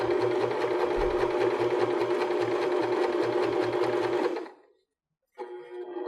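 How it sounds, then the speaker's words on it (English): Sewing machine stitching material for a cork strap trimmed purse, running steadily and loud for about four seconds with a rapid, even needle rhythm, then stopping briefly before starting up again more quietly. "lift up the presser foot and turn the material under the needle so you can sew straight along the bottom edge"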